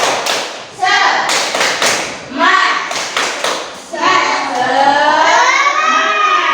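A group in a school lesson doing a rhythmic spirit clap, with patterned bursts of claps and thuds alternating with chanting, lively voices that carry on to the end.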